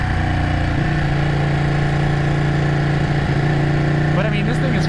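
Ducati Panigale 899 motorcycle engine running steadily with a strong low hum and a slight rev rise near the end, a rider talking over it throughout.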